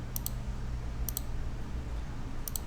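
Computer mouse clicks during SketchUp modeling, three quick double clicks spaced about a second apart over a steady low hum, close and without speech.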